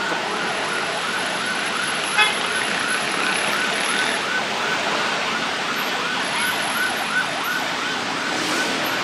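An ambulance siren wails steadily through congested road traffic in Thailand, loud and continuous over the hum of idling and moving cars.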